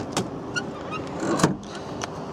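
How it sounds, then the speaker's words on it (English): Electric heated door mirrors on a Vauxhall Corsa whirring as they move, a quiet motor hum with a few soft clicks and a brief louder whine near the middle, heard close inside the car. "electric heated door mirrors"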